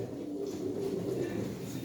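Pigeons cooing in a loft, a steady low throaty purring coo that carries on for the whole moment, close and clear with no talk over it.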